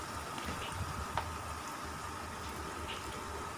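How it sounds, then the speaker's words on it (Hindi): Water at a rolling boil in a pot of beef yakhni stock for pulao, a steady, close bubbling hiss that holds even throughout, with no voices. "पानी को बॉईल आ गया है"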